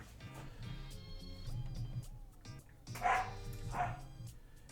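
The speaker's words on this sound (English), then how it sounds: "Excuse my dogs in the background." Two muffled dog barks sound faintly in the distance beneath a low, steady background hum.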